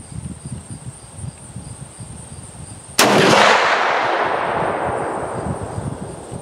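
A single loud, close rifle shot from a Marlin 336 lever-action, chambered in .35 Remington or .30-30 Winchester, cracks outdoors and then rolls away in a long fading echo over steady chirping crickets.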